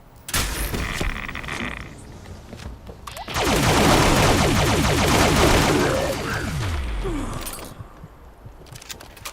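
The Quad Automatic Alien Disintegrator, a laser weapon in Fallout 76, fires in sustained rapid streams, with a long loud central burst flanked by shorter bursts and mechanical clicks between them.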